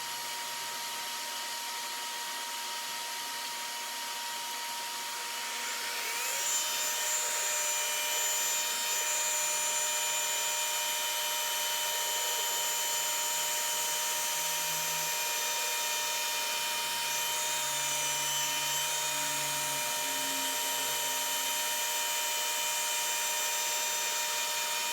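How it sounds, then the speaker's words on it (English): A rotary polisher fitted with a wool pad and spread with extra cut compound whirs with a steady high-pitched whine, rising slightly in pitch and intensity as it works, close and alone without speech. "we'll start off with the ACA, the extra cut, and we'll team that up with a wool pad on the rotary"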